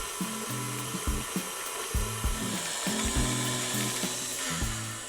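An electric mixer at low speed beats extra large eggs into chocolate cake batter, a close whirring hum with rhythmic bumps and scrapes from the beaters against the bowl.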